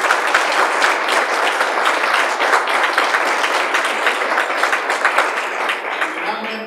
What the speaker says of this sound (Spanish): un aplauso de nuevo para Olga